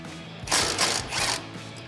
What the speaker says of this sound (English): grab a 10mm socket and remove this bolt